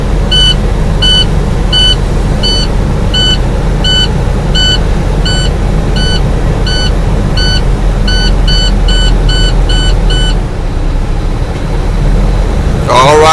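A truck engine running at a raised idle during an air brake system inspection, a steady loud diesel rumble under a regular series of electronic warning beeps that stop partway through.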